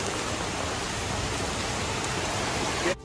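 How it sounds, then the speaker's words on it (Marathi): Steady, close rain pouring down outdoors at a shop site during the monsoon, a dense even hiss that runs without a break and drops away abruptly at the very end. "मस्त पैकी पाऊस चालू झालाय"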